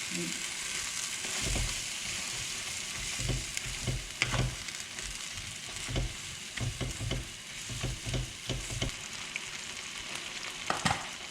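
Food stir-fried in a pan, a constant sizzle overlaid with repeated scraping and knocking of a utensil against the pan in an irregular rhythm, heard close up.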